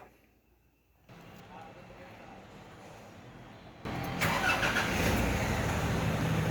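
A Nissan NV350 van with a P012B inlet pressure sensor fault cranks and starts, a low quiet rumble jumping to a louder, steady running engine partway through, heard close.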